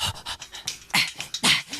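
Rhythmic percussive breaths from a singer's BAD studio multitrack, a run of short sharp huffs and pants repeating about every quarter second, close and dry, growing stronger toward the end.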